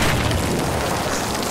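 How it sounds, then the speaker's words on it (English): Mines blow up in a video game with a dense, rumbling blast that fills the whole moment loudly and evenly, no voices over it. "Blow up my mines."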